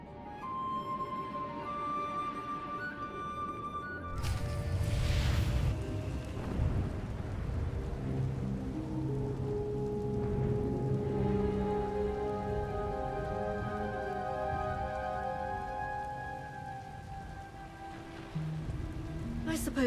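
Heavy rain patters steadily in a thunderstorm in Star Wars: The Old Republic, with a loud rolling thunder rumble near the start and low music running under the downpour throughout.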